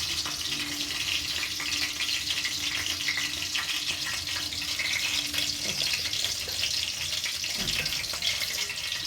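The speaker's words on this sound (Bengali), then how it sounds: "আর এখানে চিকেন বাটার ফ্রাইতে ভাজছি।" Pieces of chicken butter fry crackle and sizzle in hot oil in a pan, a dense, steady hiss that carries on evenly throughout, close and moderately loud.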